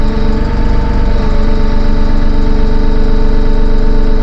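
A Massey Ferguson 1M.40 eHydro compact tractor engine idles at low speed with a steady, loud, close-up chug and hum while the front loader is raised, the drone holding even throughout.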